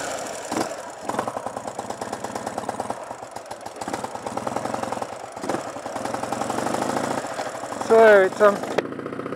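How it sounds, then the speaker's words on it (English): A Ural 750 sidecar motorcycle engine runs with a rhythmic, low, thumping idle, close and moderately loud, while someone talks over it. "So we just start on and climb on and start the engine."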